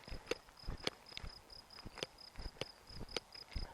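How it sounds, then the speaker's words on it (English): Crickets chirp in grass on a heath, a steady faint high-pitched trill running throughout, punctuated by soft crunching footsteps nearby. "You can hear crickets in the grass here."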